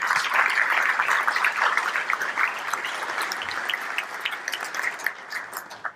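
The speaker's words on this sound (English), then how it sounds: "Please give them a round of applause." An audience at a groundbreaking ceremony claps loudly and continuously, the applause thinning slightly toward the end.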